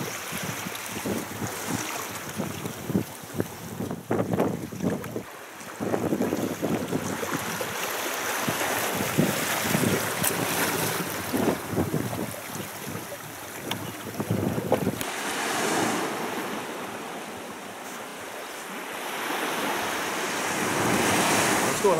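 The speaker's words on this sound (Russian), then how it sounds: "Вдоль Тихого океана идем." Waves break and wash along the Pacific shore of bays on the Coromandel Peninsula in New Zealand, with strong wind buffeting the microphone in a loud, continuous rush that swells and eases throughout.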